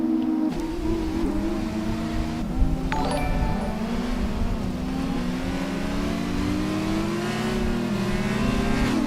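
F2 race cars lap the Belgium circuit in an esports racing video game, with a continuous loud roar of high-revving engines as several cars rev and accelerate close together, with no talk.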